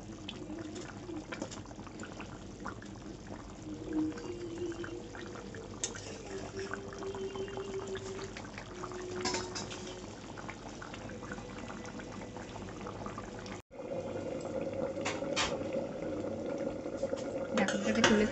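A pot of poultry chicken curry bubbles toward a boil, a soft, steady simmering texture with light clinks. There is a brief dropout, after which the bubbling returns slightly louder and fuller.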